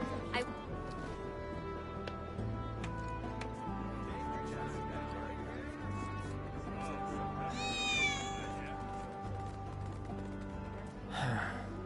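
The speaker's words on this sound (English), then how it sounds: "That was definitely a cat." A cat in the Final Fantasy 7 Remake video game gives a couple of short, rising meows near the end, heard over a continuous bed of game music and ambient sound.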